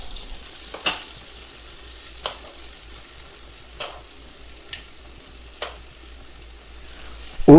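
Chicken fries in oil in a pan for chicken mandi, a steady soft sizzle close up, broken by a few sharp stirring clacks at irregular intervals.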